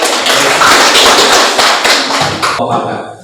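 Applause from a classroom audience after a group presentation, a dense, loud wash of many hands clapping steadily for about two and a half seconds before tapering off.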